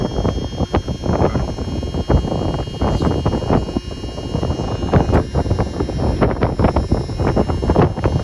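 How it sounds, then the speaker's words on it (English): Strong gusty wind buffeting the microphone in loud, uneven blasts and rumbles, with no talking, beside a Thermo King SB 300 refrigeration unit. "It's fucking windy."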